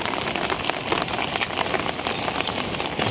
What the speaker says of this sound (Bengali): বৃষ্টি কমছে।